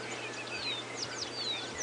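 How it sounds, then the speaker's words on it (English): Bee-eaters call while flying overhead on a morning game reserve drive: rapid rolling chirps and short trills scattered across a busy bird chorus above a steady low engine hum. "You can hear some bee eaters flying overhead."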